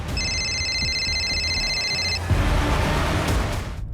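A phone rings with a steady electronic tone for about two seconds, then stops, leaving muffled outdoor noise and rustling.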